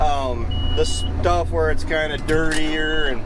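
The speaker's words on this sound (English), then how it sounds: "that is the alarm going off on the baler telling me that my door is open and it shouldn't be" A baler's door-open warning alarm sounds as a repeating electronic beep over loud engine rumble from farm machinery, with someone talking over it throughout.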